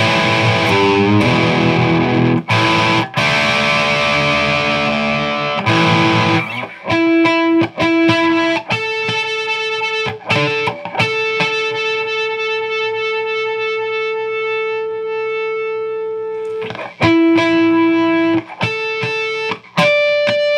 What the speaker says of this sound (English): now we're going to move up to the little bit heavier tones here, a little kind of bluesy gain